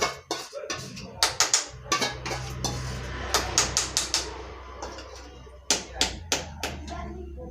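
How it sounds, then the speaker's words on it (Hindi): Metal kitchen utensils and pots being set in place, with a rapid series of sharp clinks and clatters coming in bursts close by, separated by short pauses, and no talk. "और ये बर्तन रखे हुए हैं तो इनको सेट कर दे रही हूँ।"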